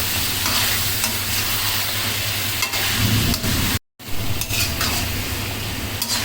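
Beef frying and sizzling in oil for a homemade achari beef bhuna: a loud, steady sizzle with repeated scraping and stirring clatter from a utensil in the pan. One brief drop to silence comes midway, and no one speaks.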